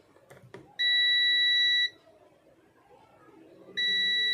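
A multimeter in continuity mode beeps while an SMD low-value resistor in a mobile phone is tested: two loud, steady, shrill tones, the first about a second long, the second starting later, over quiet handling noise.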